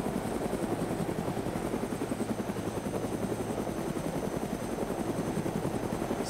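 Helicopters idle with engines running in DayZ, a steady rapid rotor chop and a high turbine whine drone on without a break, loud and continuous.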